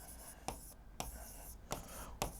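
Chalk or marker strokes on a board while a chemical name is written, four short scratchy taps spaced about half a second apart over a quiet room hum.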